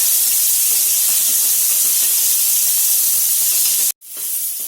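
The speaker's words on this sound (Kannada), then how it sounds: "ನುಗ್ಗೆಕಾಯನ್ನ ಹಾಕೊಳ್ಳೋಣ ಫ್ರೈ ಮಾಡ್ಕೊಳ್ಳೋಣ" Drumsticks and onions fry in a pan for a sambar, giving a loud, steady hiss and sizzle close up. It cuts off abruptly near the end, then the sizzle resumes.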